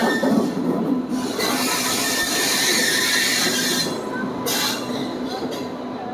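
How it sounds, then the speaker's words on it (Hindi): Train arriving at a station with Bag 9 on the Mathura–Delhi route: a steady loud rumble of rolling railcars and wheels with a faint metallic squeal, continuous for the whole stretch without speech. "यहाँ पे अपनी ट्रेन का अराइवल होता हुआ"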